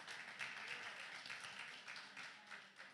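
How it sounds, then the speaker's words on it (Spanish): Applause from a church congregation at a general meeting, dense and steady throughout, a continuous wash of many hands clapping at moderate distance with faint voices mixed in. "Vamos a filmar el aplauso y se lo vamos a mandar."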